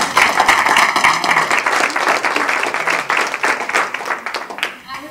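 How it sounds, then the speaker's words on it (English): Audience at a Beverly, MA chiropractic life detox workshop breaks into loud, dense applause, a close, continuous wash of clapping that holds strong and thins slightly toward the end, with some cheering or voices mixed in. "Can we give her a round of applause?"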